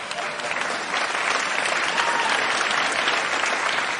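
Steady audience applause during a comedy set: a dense, full wash of clapping from a large crowd, loud and continuous for about four seconds with no talking over it.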